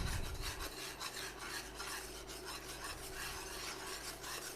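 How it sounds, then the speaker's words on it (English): Warm milk being whisked hard into a flour mixture, a steady scraping, rasping stir of the whisk against the bowl that carries on close and continuous without pause. "This is when you're going to really get going with your whisk and really mix that in"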